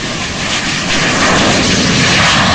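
Lear Jet engines at full power on takeoff roll out of an airport, a loud, continuous broadband roar that holds steady and builds slightly.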